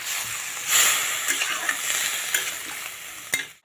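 Water poured into a hot pan of vegetables for shukto, cooking with white and black mustard and green chilli paste, bursts into a loud hiss that settles into a continuous sizzle with a few faint clinks near the end.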